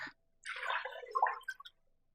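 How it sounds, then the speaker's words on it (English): Whole milk, two cups, poured into a pan on a stovetop on low heat, giving a short liquid splash and slosh of about a second alone after a brief click. "I'm just going to pour in 2 cups of whole milk."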